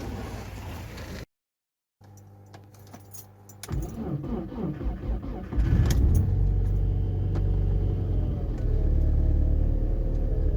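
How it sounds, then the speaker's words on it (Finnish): Keys jangle before a car engine, fitted with a Defa hose heater, is started in -30°C cold: a short crank, then the engine catches and settles into a loud, close, steady idle. "ihan hyvinhän tuo pärähti käyntiin ja siinä käy"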